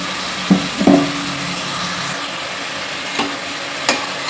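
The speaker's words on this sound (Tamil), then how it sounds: "இப்போ பலாக்கொட்டையும் போட்டு நல்லா வதங்கிட்டு இருக்கு பாருங்கள்." Jackfruit seeds with ginger-garlic paste sautéing in a pan for biryani, a soft steady sizzle broken by a few scraping stirs of a spoon against the metal, close and clear with no voices.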